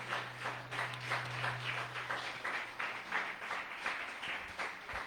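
Church congregation applauding loudly during a sermon, a dense continuous wash of many hands clapping with pulsing rhythm and no talk over it.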